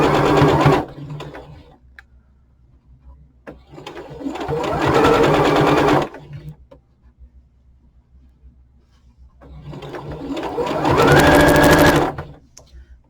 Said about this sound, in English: So we're stitching the crown to the hat band